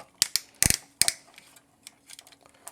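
Ratcheting joints on a Masterrmind Creations R-42 Z-Def action figure click sharply: several loud, close clicks in quick bursts early on, then fainter scattered ticks as the joint is worked.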